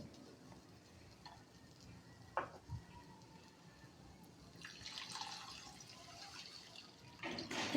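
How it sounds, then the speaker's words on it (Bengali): Water is poured into a pan of frying masoor dal with ground coriander, giving a faint hiss and splash that swells midway and returns briefly at the end over quiet kitchen background. "দিয়ে দিচ্ছি আমি এখানে পরিমাণ মতো পানি।"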